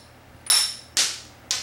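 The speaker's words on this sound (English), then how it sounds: "I'm just going to take my brass hammer and I'm going to hit that" A brass hammer strikes a 3/8 inch socket extension three times, each a sharp metallic clink with a short ringing tail, spaced about half a second apart on an otherwise quiet background.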